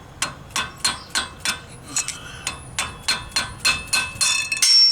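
About a dozen sharp metallic hammer strikes hit a screwdriver in a steady rhythm while changing a Dana 44 axle seal on a Jeep Wrangler JK, each ringing briefly, close and loud with no talking.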